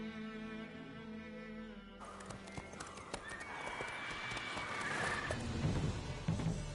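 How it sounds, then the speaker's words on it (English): Horse hooves clip-clopping and a whinny from a mount in The Witcher 3 video game, set against in-game ambience and music, with the hoofbeats growing busier and louder in the second half. "Whoa there, Roach."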